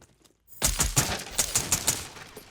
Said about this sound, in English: Someone's getting shot at.